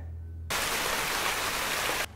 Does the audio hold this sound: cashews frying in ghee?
no